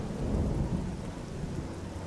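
Rain and rolling thunder in the video game Oblivion, a steady wash of rainfall under a low continuous rumble, heard alone without talk.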